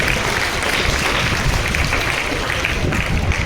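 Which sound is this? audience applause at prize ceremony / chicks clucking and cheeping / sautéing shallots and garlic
audience applause at prize ceremony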